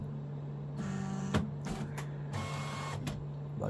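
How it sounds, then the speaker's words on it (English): A QIDI Plus 4 3D printer homing its axes: stepper motors whine in short bursts with a few sharp clicks as the carriage hits its end stops, over a steady fan hum, close and moderately loud. "printer's gonna do his homing."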